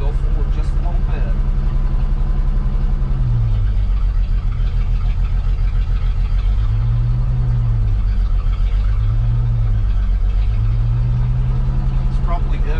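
A cabover truck engine runs on its own at a steady, loud idle throughout, its low rumble dipping and swelling in a few slow waves as the revs shift, with no talk over it.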